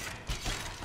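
A short mechanical clicking and ratcheting of a gun being reloaded in the Tomb Raider (2013) video game, quiet and close, with no talk.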